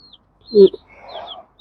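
A mother hen gives a low cluck as a newly hatched chick peeps thinly and high around her, the calls close and clear with brief silences between them.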